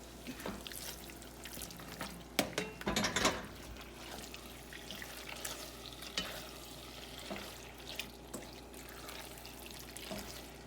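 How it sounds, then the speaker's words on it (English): Potato kluski dumplings being tossed into fried bacon and onions with their fat, giving a low sizzle with clattering stirring and scraping, louder around the middle and then settling into gentler mixing. "you just add the potato Kluski to them and mix it"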